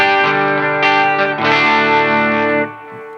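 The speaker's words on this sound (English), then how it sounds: "you can start to hear the sound of what would be a power tube breakup, kind of like a preamp tube breakup." Electric guitar played through a UA Lion Marshall Super Lead amp emulation with the gain turned up past noon, giving loud, sustained chords with gritty tube-style breakup, a brief change midway, then a ringing decay, with no talking.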